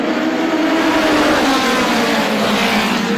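A dense, continuous roar from a pack of race cars accelerating at the green flag of a NEMA feature at Star Speedway, loud and sustained with no breaks.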